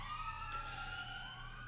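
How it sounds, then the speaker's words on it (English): Emergency vehicle sirens pass outside, faint and distant, a steady wailing tone over a low background rumble, with no voices. "excuse the sirens."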